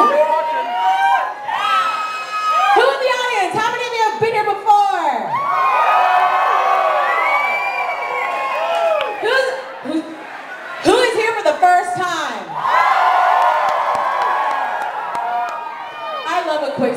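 A burlesque show audience screams, whoops and cheers in loud surging bursts, with high shrieks and laughter rolling through the crowd.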